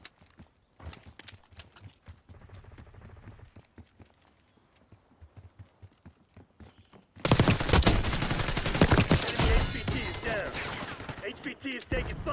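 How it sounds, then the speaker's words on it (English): Dense rapid gunfire erupts in the Call of Duty Black Ops 6 video game after a quieter stretch of footsteps and sparse shots, continuing loud and sustained to the end. "HVT is taking fire."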